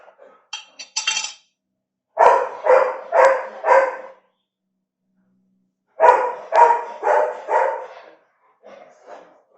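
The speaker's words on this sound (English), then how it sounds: "That would be our dog." A dog barks indoors in a home kitchen, several bursts of four or five quick loud barks separated by silences, the last few fainter.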